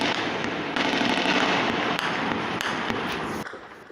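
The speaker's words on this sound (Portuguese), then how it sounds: "Disparos cortaram o céu de uma comunidade a outra." Dense gunfire between rival gangs crackles across a Rio neighbourhood at night, rapid overlapping shots in a continuous loud barrage heard from inside a home, cutting off abruptly near the end.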